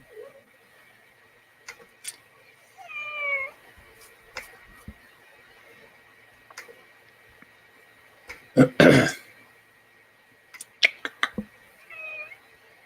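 A house cat meows several times at close range in a quiet room, short rising cries spaced apart, with a louder burst of rustling or handling noise midway and a few sharp clicks.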